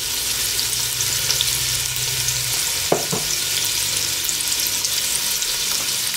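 Sweet pepper, celery and white onion fry in a pan with a steady close sizzle, broken by a brief scrape of stirring near the middle.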